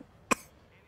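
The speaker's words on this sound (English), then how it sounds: "That was a coughing." A single short cough, sharp and fairly close, in an otherwise quiet room.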